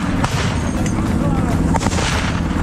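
A recoilless SPG gun fires in combat amid fog, giving a sharp heavy blast over rumbling battlefield noise, with shouted voices nearby.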